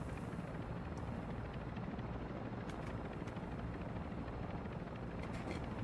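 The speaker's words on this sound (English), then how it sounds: "There's a helicopter over there." A helicopter in the Call of Duty Modern Warfare 2 game drones with a steady, loud rotor roar that fills the whole stretch, with no voices over it.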